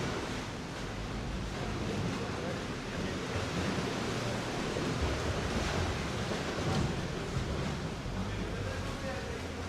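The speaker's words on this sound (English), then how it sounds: "can hear the waves bashing the rocks" Sea waves bash against the rock walls of the Benagil sea caves in Portugal, a steady roar of surf and spray that echoes close by. A boat sits in the cave and wind noise runs through the whole clip.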